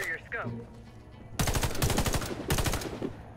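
Automatic gunfire in the online shooter WarFace, two loud rapid bursts of shots, the first about a second long and the second shorter, after a quieter opening.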